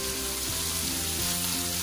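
Onion and smoked pork frying together in a pan, a dense, loud, even sizzle filling the whole moment up close, with no talking.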